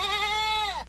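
A goat bleats once, a clear, loud, wavering call lasting under a second that bends down in pitch at the end, heard alone during a baseball broadcast.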